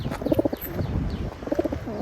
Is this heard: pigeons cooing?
yes